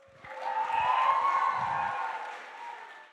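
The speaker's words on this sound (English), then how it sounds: "Let's give him a huge round of applause." A conference audience applauds a speaker, a moderate, fairly distant burst of clapping that swells and fades over a few seconds.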